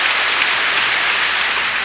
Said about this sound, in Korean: 박수치며 하나님께 영광을 돌리고